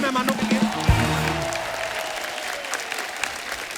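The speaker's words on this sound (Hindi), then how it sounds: "जोरदार तालियां हो जाए हमारे मेहमानों के लिए।" Studio audience applauding for guests on a Hindi-Punjabi talk show, steady dense clapping after a brief musical sting, continuing at an even level throughout.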